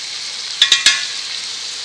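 Beef fries in a pan with garam masala and cumin powder, giving a steady bright sizzle throughout and three quick stirring scrapes in the first half.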